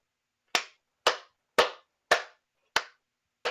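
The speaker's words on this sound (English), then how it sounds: "Everybody in the bar begins to clap" Six sharp, evenly spaced hand claps, about half a second apart, loud and close, from people in a bar, with no talk over them.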